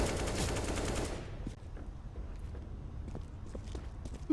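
A P90 submachine gun fires in a Counter-Strike match on the Cobblestone map. A dense, loud burst of rapid shots comes first, then scattered single cracks and footstep-like clatter follow farther off.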